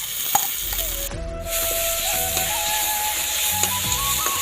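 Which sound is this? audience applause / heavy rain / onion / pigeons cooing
onion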